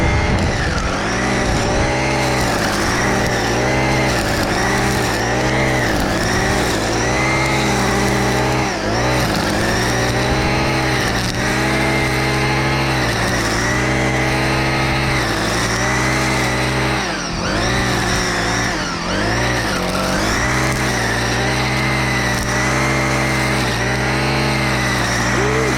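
Cars rush past on a roadside where tall grass and weeds are being cut, with loud engine noise sweeping by continuously and several distinct passes rising and falling over about twenty-five seconds, no talk heard.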